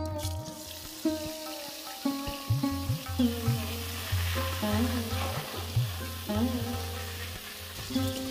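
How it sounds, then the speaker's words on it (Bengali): Potatoes fry in a pan after a panch phoron tempering for a rui fish curry with flat beans, a soft continuous sizzle with light stirring beneath louder melodic background music. "এখন আমি দিয়ে দেবো আলু। আলুটা কিছুক্ষণ ভেজে"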